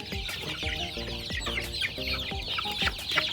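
Chickens cluck repeatedly in a coop on a cold, rainy day, with overlapping short clucks and calls over a constant hiss of rain, fairly close and busy.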